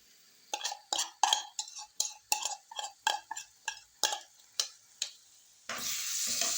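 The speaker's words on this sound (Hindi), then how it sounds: "इसमें हम ये अपना चिकन जो हमने मैरिनेट करके रखा था वो डालेंगे इस तरह से।" Marinated chicken goes into hot cooking oil in a pan, with a series of sharp clattering stirs and scrapes in an even rhythm, followed by a steady loud sizzle of frying.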